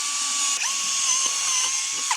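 Power drill boring screw holes through wood for a mini moto seat, a steady whining motor tone held throughout with brief dips as the bit catches, close and alone.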